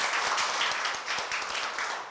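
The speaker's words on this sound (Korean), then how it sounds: "큰 박수 맞으십시오." Applause at a union meeting in a hall: a brief burst of many hands clapping at once, dense and even, heard at moderate distance and fading slightly at the end.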